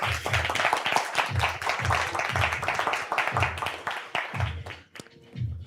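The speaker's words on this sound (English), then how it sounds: "Please can you clap for Maureen again?" An audience at a live-streamed talent event applauds a performer, a crowd of close, steady hand claps lasting several seconds, with a voice speaking over them.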